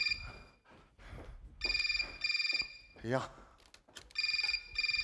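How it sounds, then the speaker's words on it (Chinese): A telephone rings in a Chinese sitcom comedy sketch. The ringing comes in two repeated bursts of shrill, rapid trills, with people talking and moving about in between. "我接个电话"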